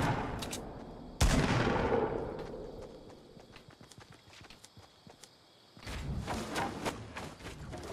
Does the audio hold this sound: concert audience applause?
no